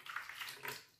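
A glass of milk is poured into a bowl while making brioche dough, a soft continuous splashing pour heard close and fairly quiet.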